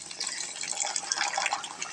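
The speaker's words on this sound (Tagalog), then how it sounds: "Pag ganyan ng brown, dagdagan mo na ng tubig." Water poured into a pan of alamang (shrimp paste) dipping sauce for mango as it cooks, a steady close hiss and splash of liquid running without break, no talk.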